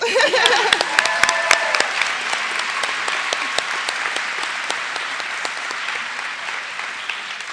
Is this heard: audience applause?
yes